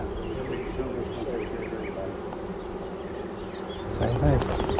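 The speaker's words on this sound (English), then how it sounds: "A lot of bees to find the queen." A dense swarm of honey bees hums and buzzes steadily up close at an open hive, rising a little louder near the end, with faint murmuring underneath.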